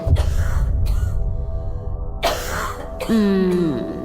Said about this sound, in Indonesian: Lalu terdengar suara seorang perempuan batuk.